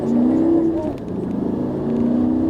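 A Lamborghini Gallardo engine rises in pitch as the car accelerates, then dips briefly and climbs again, heard loud and close from inside the car with no talk over it.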